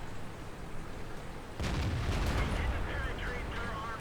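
A tank cannon fires once in a World of Tanks–style battle, a sudden heavy boom followed by a rumbling decay over steady game background noise.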